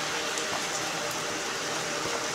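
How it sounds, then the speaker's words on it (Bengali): Heavy rain falling outside on a Sunday morning, a dense, even wash of steady hiss with no breaks, heard alone with no talk. "আজকে বাইরে দুর্দান্ত বৃষ্টি"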